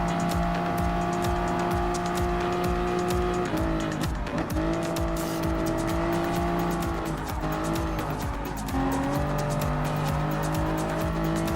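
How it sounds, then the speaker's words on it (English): Race car engine in Gran Turismo Sport revving hard and steadily, with gear shifts and brief tire squeal, loud and continuous throughout. "Now let's go and keep the throttle increased."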